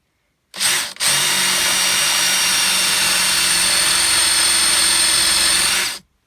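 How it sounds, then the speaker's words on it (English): A power drill whirs loudly and steadily for about five seconds after a brief start and stop, then cuts off sharply. "there's the cut using the power drill"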